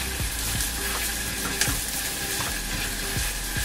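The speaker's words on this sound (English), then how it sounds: "I'm stirring constantly because I don't want it to get dark" Food sizzling and frying in a pan while a spoon stirs it constantly, with soft repeated scraping over a steady hiss, close and fairly quiet, with no talking.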